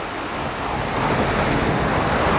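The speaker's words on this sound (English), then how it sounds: "The Beck River that flows underneath" Colden Water, the river flowing beneath Hebden Bridge, gives a steady, dense rush of water that swells slightly louder as it goes, with wind-like noise and no voices.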